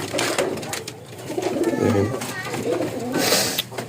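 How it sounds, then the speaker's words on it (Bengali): A Golla pigeon coos repeatedly in a loft, soft throaty calls with other birds close by, under steady background noise. "এটা গোল্লা কবুতর, এটার সাথে কালো একটা মাদি আছে"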